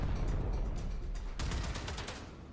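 Primary cannon firing in the Warframe video game during a naval battle against a cruise ship: a fast, faint burst of repeated blasts with rattling mechanical clatter, steady for a moment then tapering off.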